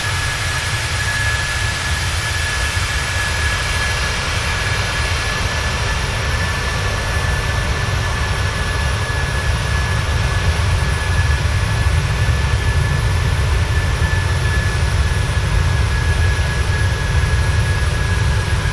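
Steady roar of a Boeing 737-700 jet engine in the Microsoft Flight Simulator video game during climb, a loud constant rumble with a thin high whine and no talk over it.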